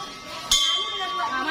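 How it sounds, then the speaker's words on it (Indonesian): A single bright school bell strike rings out and lingers with a sustained tone over a murmur of background voices. "lonceng telah berbunyi"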